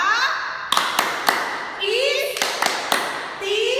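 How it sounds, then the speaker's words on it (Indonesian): Sunday-school children at an HKBP church in Cawang perform the 'tepuk istimewa' clapping routine, sharp group claps and taps in a rhythmic pattern mixed with chanting children's voices. "Tepuk istimewa."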